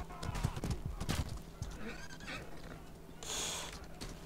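Horse in the Mordhau video game, with clip-clop hooves and a whinny over a busy game soundscape, and a burst of hissing noise near the end.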